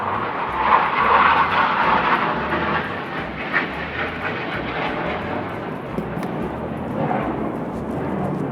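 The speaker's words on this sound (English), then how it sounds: "now I've just had some jets fly over" Jet aircraft flying overhead, a loud, sustained roaring rumble that swells early and then lingers as a broad steady drone for several seconds.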